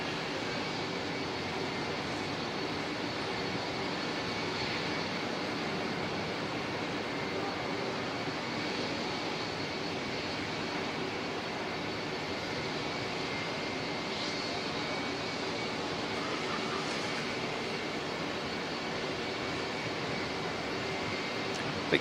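Airliner at Auckland Airport on a crosswind day, its jet engines producing a continuous loud roar with steady broadband rumble and faint high whine from start to finish, no talking.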